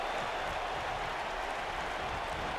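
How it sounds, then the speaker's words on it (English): Crowd cheering and applause from a WWE 2K wrestling video game match set in the UK, a steady, dense wash of noise that fills the clip without a break. "A great crowd here in the UK."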